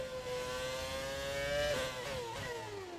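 High-revving classic Formula 1 car engine in F1 2020, a loud continuous scream that holds pitch, then drops sharply through gear changes before climbing again, no voices present.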